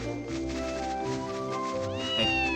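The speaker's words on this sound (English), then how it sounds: "Ooh, cat." A cat meows in the video game Ys Chronicles, drawn-out tonal cries layered over steady game music, moderately quiet and without speech.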